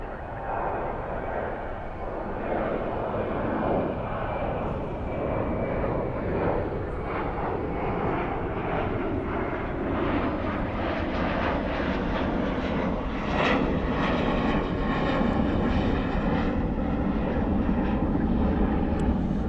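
Turkish Airlines jet airliner at DFW airport at night, its steady engine roar filling the whole stretch, loud and broadband with a slowly shifting whine as the aircraft taxis or passes nearby.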